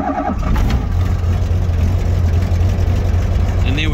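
A Jabiru J230 light aircraft's Rotec 3300 Gen 2 engine, set up with a Rotec LCH conversion, catches with the choke on and settles at once into a loud, steady, close idle.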